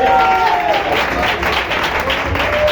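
Church congregation clapping at an Assemblia anniversary service, dense steady applause throughout with voices and faint tonal sounds mixed in underneath.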